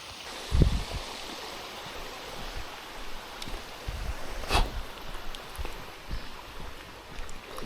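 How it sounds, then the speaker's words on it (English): Fast, loud water rushing down beside the GAP Trail near Smithton, a steady broadband roar holding throughout, with a few brief thumps and one sharp crackling burst partway through. "there's a lot of water right in there. Coming down, it's really loud."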